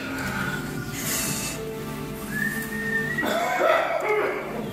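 Someone whistles a thin, sustained note partway through, with faint breathy noise and room sound around it.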